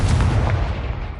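A Confringo blasting spell in Hogwarts Legacy on PS5 goes off as a loud, continuous booming rumble with a dense low-end burst that holds steady for about a second, with no talk.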